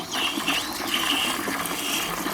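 A restored J.T Hull of Dorchester cast iron cistern flushes with a steady, close rush and gush of water lasting the whole short moment.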